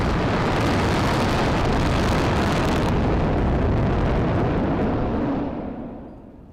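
Thirty-one Raptor engines on a SpaceX Super Heavy booster fire together at about half throttle in a static fire, a massive continuous roar that holds for several seconds and then fades.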